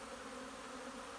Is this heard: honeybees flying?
yes